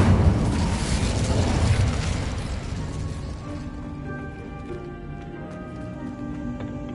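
A Bombarda spell blasting in a Hogwarts video game, a loud low rumbling explosion that rolls for a couple of seconds, then fades into softer clattering debris and ringing tonal effects.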